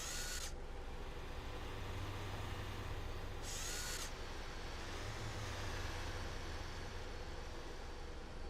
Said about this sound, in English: We've got a drill in here.